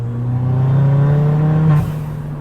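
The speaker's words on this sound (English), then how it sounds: "it's turbo smart blow-off valve. So it's a vacuum powered one instead of electronic." An engine-swapped 350bhp Fiesta ST with a turbo and vacuum-powered Turbosmart blow-off valve revs with a droning engine note, which cuts off into a brief hissing release near the end.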